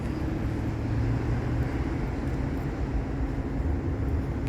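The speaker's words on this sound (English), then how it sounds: "Got a train coming." An Amtrak passenger train approaching Lakeland station produces a steady, broad outdoor rumble that stays fairly loud and constant for a few seconds, with no voices.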